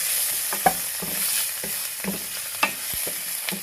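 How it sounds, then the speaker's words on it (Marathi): Finely chopped garlic, five or six cloves, frying in oil in a pan for banana flower sabji, a steady hiss of sizzling with a few sharp spoon clicks and scrapes, close and continuous, no talking. "मग आपण त्याच्यात बारीक चिरलेले लसूण टाकूया, 5-6 लसूणच्या पाकळ्या."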